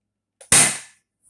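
An Adventure Force Deuce Pro foam blaster fires through a chronograph, one sharp loud pop preceded by a faint click, decaying quickly in an otherwise quiet room.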